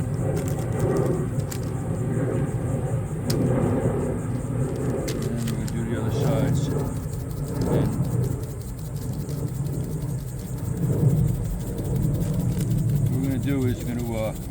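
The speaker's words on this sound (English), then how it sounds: "Wait for the airplane to pass overhead." An airplane passes overhead outdoors while eggplant slices are being salted, a steady low rumble that swells slightly and fades, with voices faintly present.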